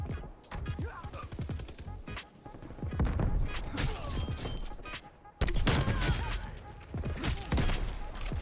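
Video game gunfire from a launcher-focused shooter during a triple kill: bursts of rapid shots and impacts, loud and dense, with someone talking over parts of it.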